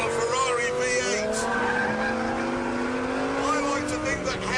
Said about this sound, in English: Behind, I've got the savage bark of a V10, and then in front, the howl of a Ferrari V8.